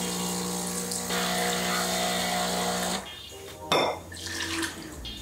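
Hot water poured into a pan for lavender syrup in a home kitchen, a steady close liquid stream for about three seconds, then clinks and splashes of cookware.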